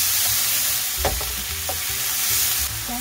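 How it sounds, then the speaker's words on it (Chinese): Squid, celery and sacha sauce stir-fry in a wok with a dense, continuous sizzle. Several sharp spatula scrapes and clanks sound against the metal, close and loud, and no one speaks. "好，把它拌炒"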